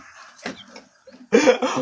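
A toy chicken clucks in short electronic bursts, a few choppy squawks close by, the last one louder.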